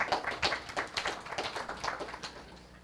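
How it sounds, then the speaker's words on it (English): A lecture audience claps for a plenary speaker at an academic talk, a dense patter of many hands, fairly quiet and steady throughout with no voices over it. "Thank you for that vociferous round of applause."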